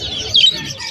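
A Euro budgie hen chirps at a pet market, giving one short, bright high tweet close by against a steady murmur of background noise.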